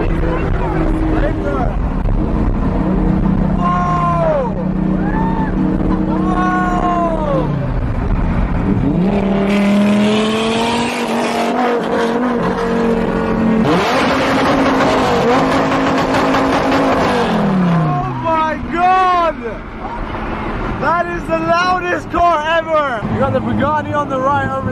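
A convoy of supercars led by a Bugatti at a luxury car event, engines loudly revving and roaring with repeated rising and falling gear sweeps close by, while people talk over the noise.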